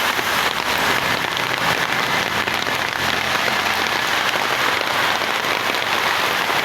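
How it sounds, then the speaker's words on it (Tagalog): Steady heavy rain falling on surfaces, a dense, even hiss and patter that stays loud and constant throughout, with no voices over it. "Salamat, umulan na din."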